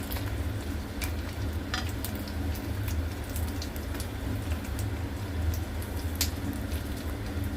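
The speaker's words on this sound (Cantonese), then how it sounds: "總之你慢慢地俾啲心機，半煎炸佢。" Shrimp paste tofu skin rolls half pan-frying in oil, a steady dense sizzle with scattered crackles and pops throughout, close and fairly loud, with no voices.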